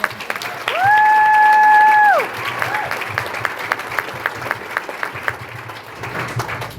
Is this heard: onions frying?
no